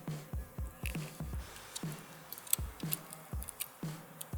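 Handlebars of a Dualtron Thunder electric scooter being folded: a quick series of soft, close clicks and clacks of the folding mechanism, evenly spaced at about two per second, faint and with no voices.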